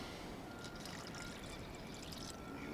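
Water pours steadily into a beach cook-up mixture in Gisborne, New Zealand, a continuous close splashing trickle with no pauses.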